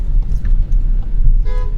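A 2021 Skoda Octavia L&K sounds its horn in one short toot near the end, close by, over a steady idling car rumble.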